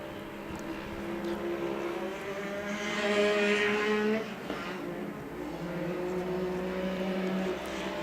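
Off-road race vehicles circulating at Can-Am Raceway during short course national finals, engines droning from a distance and swelling briefly louder as one passes before fading back to a steady background hum.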